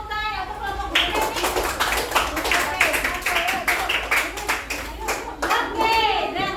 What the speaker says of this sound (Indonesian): kasih tepuk tangan untuk kelompok B nih.